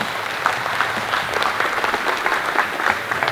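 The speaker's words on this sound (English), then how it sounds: "Let's give all these young people a nice round of applause." An audience at a pig show's young showmanship division applauds, a close, steady round of many hands clapping with no voices over it.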